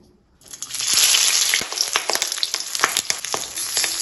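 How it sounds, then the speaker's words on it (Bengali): Fish paturi parcels of hilsa laid into lightly hot oil in a pan, starting with a sudden burst of crackling sizzle that settles into steady, close frying with scattered pops. "তেলটা হালকা গরম হয়ে গেছে, এখন আমি পাতুরিগুলো আস্তে আস্তে দিয়ে দেব"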